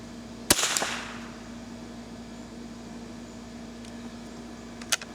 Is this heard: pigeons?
no